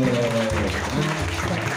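A crowd at a macro photography meetup in Jember, Indonesia claps steadily, a dense wash of applause that stays even throughout the short stretch.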